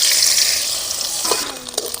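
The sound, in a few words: chopped coconut frying in ghee in a pan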